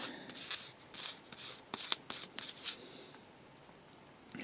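A polisher rubbed by hand across a small plastic model figure, a run of brisk close scraping strokes in uneven bursts, quiet, fading toward the end with no talk.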